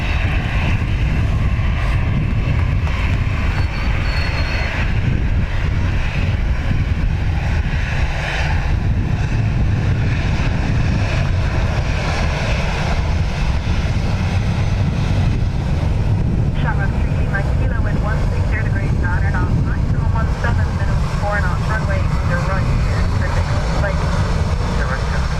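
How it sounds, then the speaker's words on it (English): An Aer Lingus airliner departs Dublin Airport bound for Munich, its jet roar heavy and constant with a broad low rumble and a windy outdoor wash throughout, and some voices talking under it. "Aer Lingus off to Munich."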